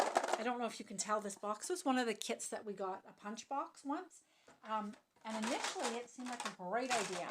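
Close rustling and clattering of items being rummaged through in a box, running under steady talking from a nearby voice.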